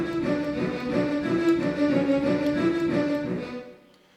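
A theme plays in double time, a loud, dense ensemble with a fast, driving pulse of quick repeated notes that holds steady and then fades out at the end.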